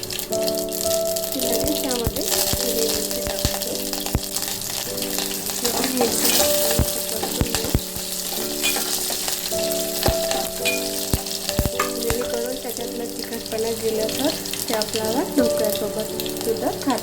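Steady crackling sizzle of mustard seeds popping in hot oil, a dense spattering hiss with occasional clinks, close by, with a faint voice in the background.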